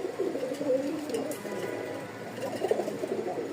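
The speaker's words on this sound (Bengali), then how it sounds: "দেখেন কি সুন্দর ডাকতেছে ব্রিডিং করার জন্য" Rajshahi Giribaz pigeons cooing to breed, several close, soft repeated throaty coos overlapping in a steady rhythm, with no talk.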